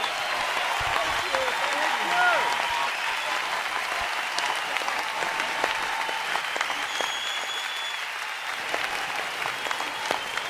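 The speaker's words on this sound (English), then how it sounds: "Please applause and thank these wonderful, talented artists" An audience claps warmly for performing artists at a spiritual gathering, sustained applause building early and then tapering over about ten seconds, rising alone with no voices over it.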